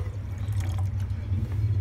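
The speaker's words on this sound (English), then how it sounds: "nilagyan niya ng water" Water pours steadily into a cooking pot while carbonara is being prepared, a brief continuous splashing and trickling heard up close with no voices.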